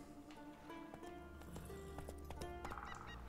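Roach, the horse in The Witcher 3, trots with quick rhythmic clip-clop hoofbeats and a brief whinny, moderately close, over layered game music with no talking.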